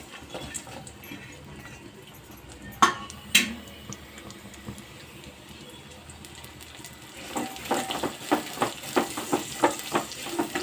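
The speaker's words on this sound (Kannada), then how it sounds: "3 ಸ್ಪೂನ್ ಎಣ್ಣೆ, ಈರುಳ್ಳಿ, ಬೆಳ್ಳುಳ್ಳಿ, ಒಣಮೆಣಸಿನ್ಕಾಯಿ ಹಾಕಿ ಫ್ರೈ ಮಾಡಿ" Onion, garlic and dried red chilies fry in about three spoons of oil with a soft, steady crackle, joined later by a run of sharper spoon taps and stirring clicks near the pan.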